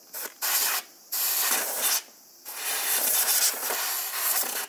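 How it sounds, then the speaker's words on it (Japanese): A compressed-air blower clears dust from around the spark plug on a two-stroke Honda Gyro Canopy scooter engine, giving several loud, close bursts of hissing air with short pauses between them. "エアブローをして周りのホコリを飛ばしておきます"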